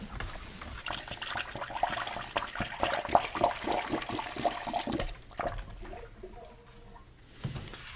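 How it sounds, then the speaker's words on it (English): Coolant pours into a Honda Civic EF engine after a head gasket job, a continuous gurgling, bubbling flow with irregular glugs as air escapes, easing into quieter trickles near the end. "there's a lot of bubbling as air escapes the system from pouring in"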